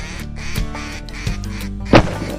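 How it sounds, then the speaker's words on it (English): Ducks quack repeatedly during a duck hunt in Argentina, several harsh calls close by over steady background noise, with one louder burst near the end. "Here come the ducks"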